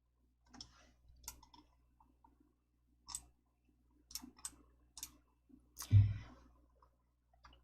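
Computer mouse clicks come as sharp, quiet single taps spaced irregularly across a near-silent background, with a slightly louder knock near the end.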